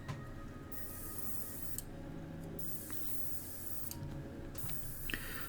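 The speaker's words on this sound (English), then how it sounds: "my airbrush seems to have a little bit of a blockage in it, so it's not really coming out too much" A partly blocked airbrush sprays paint onto a customised Matchbox Field Car model, a steady soft hiss that runs unbroken throughout with faint mechanical clicks and no voices.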